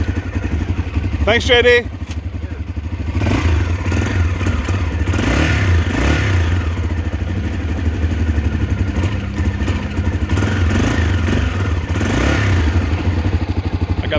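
A choked motorcycle kick-started and idling close by with a loud, steady chugging engine, a few clattering kicks and thumps early, occasional revs, and someone speaking briefly over it.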